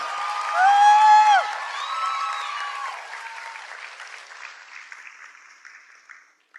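Audience applause with cheering and whoops for the organising team at a Mela 2025 cultural show; a few loud tonal whoops stand out early over the clapping, which then thins and fades away toward the end.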